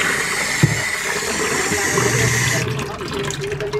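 Running water while hands soak before washing, a continuous close splashing and rushing flow with low background rumble, ending with a change in the water's tone.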